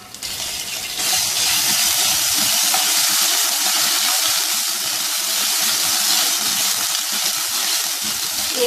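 Whole cumin and garlic-ginger paste hit hot oil in a pan over medium heat, bursting into a loud, steady, hissing sizzle that holds without a break after a short, quieter start.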